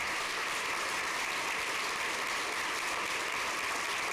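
Dense, even applause from an audience at a school governing board meeting, a continuous hiss of many hands clapping at a moderate distance for several seconds with no break.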